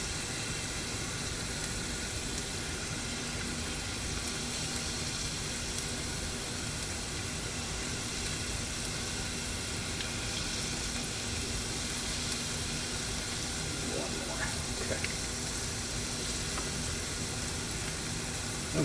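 Crab rangoons frying in hot oil give a steady, close sizzle and hiss that continues evenly throughout, with no talking.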